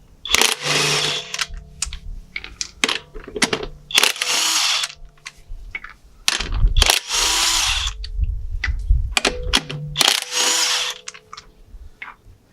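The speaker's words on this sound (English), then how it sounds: "You're going to use this impact hammer. It's a lot quicker and easier" Repeated bursts of a pneumatic impact wrench hammering on the wheel of a 2014 Honda Odyssey Touring Elite, loud and close, each burst lasting a second or two with short pauses between.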